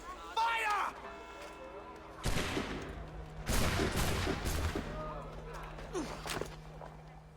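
A musket volley rings out in Assassin's Creed III, with several sharp shots in quick bursts among footsteps and game voices.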